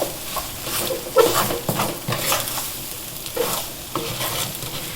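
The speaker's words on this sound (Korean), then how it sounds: "2분간 볶아주세요" Lentils and brown multigrain rice are stir-fried with soy sauce in a pan, giving a close, steady sizzle broken by repeated scraping and stirring taps from a utensil.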